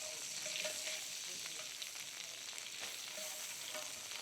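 Butter melting and sizzling in a frying pan, a steady close crackle with small pops throughout, no voices.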